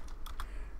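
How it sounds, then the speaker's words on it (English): Computer keyboard typing while writing Python code, just a few separate key taps, short and fairly close, with no voices. "Been typing so horribly"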